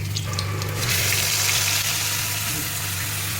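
Potato and okra pieces frying in hot oil in a pan, giving a loud, continuous sizzle with a low hum beneath it throughout.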